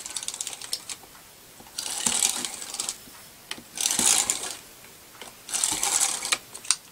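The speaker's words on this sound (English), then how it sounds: "So I'm just going to run some tape on the thinner strip, right up to the edges if you can." A Crafter's Companion tape runner laying tape along a thin paper strip: three bursts of clicking, ratcheting rolling, each a second or so long and close up, with quiet pauses between and no talking.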